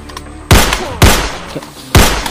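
Three loud, close gunshots ring out about half a second to a second apart during an armed confrontation, each a sharp blast with a booming tail and no talking over them.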